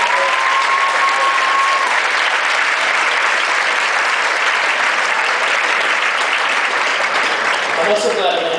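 Sustained audience applause at a youth engineering competition, steady dense clapping filling the whole stretch, loud and close, with a brief tone and a few faint voices near the end.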